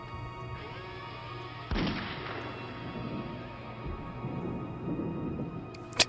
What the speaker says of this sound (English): Half-Life gunshot sound.